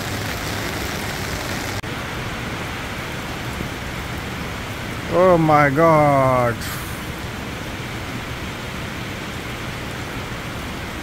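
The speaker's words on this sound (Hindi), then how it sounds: "अब आपको पता चलेगा बारिश कैसी है।" Heavy rain pours in a steady, dense hiss, loud and constant throughout, outside a supermarket; a man exclaims briefly partway through.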